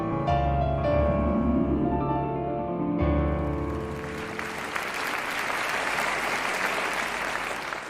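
A cartoon audience breaks into applause after a performance, the clapping rising out of a fading musical chord and settling into a broad, even patter that carries on steadily to the end.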